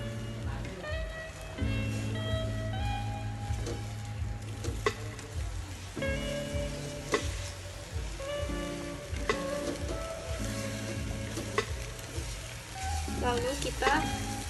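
Egg frying in a pan while being stirred slowly, a steady sizzle with occasional spatula taps, heard under tonal background music.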